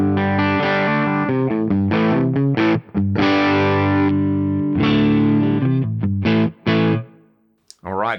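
Overdriven electric guitar on the bridge humbucker through a Westerlund Audio One drive pedal, loud and bright, playing chopped rhythmic chords and sustained notes with brief pauses, ending in a few short stabs.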